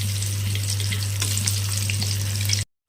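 Dried red chillies, bay leaves and whole garam masala sizzle and crackle in hot oil in a pan, a loud, steady fry with scattered pops, under a low mains hum, cut by a brief gap near the end.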